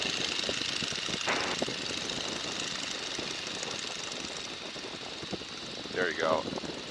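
A Boeing N2S-3 Stearman biplane engine drones steadily with power reduced to a low RPM during stall practice, a rumbling, knocking hum continuing under intermittent talk.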